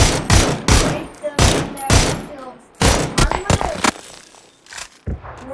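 Bursts of rapid gunfire in a video game, loud and close, cracking out in clustered volleys with short gaps, while voices talk over them.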